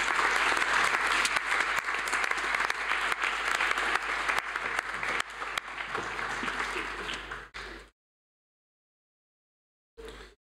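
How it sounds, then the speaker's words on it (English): Applause for award winners at a school Presentation Day: a large hall audience claps steadily for roughly seven and a half seconds, fading out, then silence with a brief faint return of room sound at the end. "Please wish them a round of applause."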